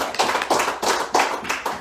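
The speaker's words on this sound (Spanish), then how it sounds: "Give an applause to the Lord." A church congregation claps in a rhythmic, steady beat during a bilingual service, close and loud, with no speech over it.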